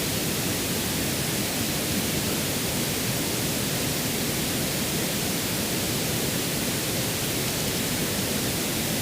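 Constant broadband pink noise, a steady even hiss filling the sound, unbroken and fairly loud.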